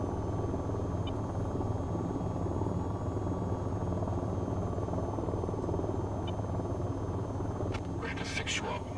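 AH-94 attack helicopter in the flight game VTOL VR, a steady close rotor and engine drone with a faint high whine, a brief burst of crackly noise near the end, no talk.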